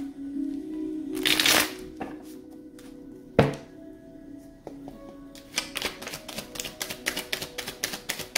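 Tarot cards riffle in a loud burst, a sharp thunk follows, then quick rhythmic snaps and taps as the tarot deck is shuffled and handled up close.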